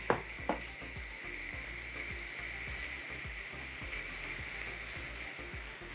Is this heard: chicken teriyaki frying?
yes